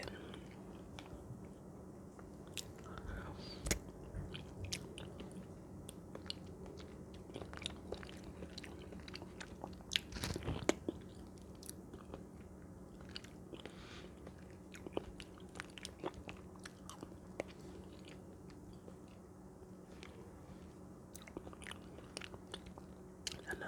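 Someone eats oatmeal mixed with egg nog up close, with soft, irregular wet chewing, lip smacks and occasional spoon clicks scattered over a long stretch at low volume, no talking.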